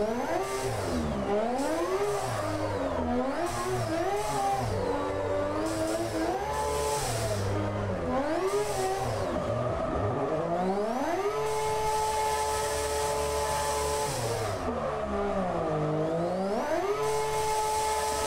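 A car engine in a racing video game revs continuously while drifting, pitch sweeping up and down with repeated throttle surges and shift changes, loud and steady with no talk.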